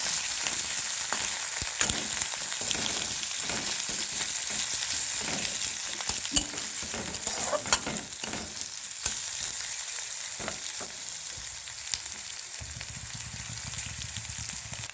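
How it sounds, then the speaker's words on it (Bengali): Onions frying lightly in a pan for a Bengali small-fish chorchori, a steady close hiss of sizzling oil with occasional stirring clicks and scrapes throughout. "পেঁয়াজটাকে একটু হালকা করে ভেজে দিতে হবে।"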